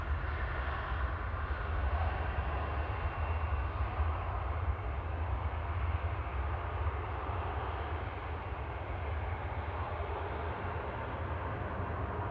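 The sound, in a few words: Jet2 Airbus A321neo arriving at Manchester Airport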